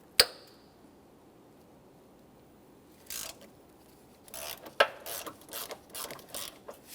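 Ratchet working 10mm bolts loose from the plastic radiator fan bracket on a 2014-2018 Toyota Corolla, a sharp crack then quiet, followed by close bursts of rapid clicking and scraping.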